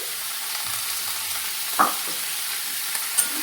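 Boiled chickpeas sizzle in hot oil in a pan, a steady close frying hiss broken by a few sharp spoon knocks and scrapes.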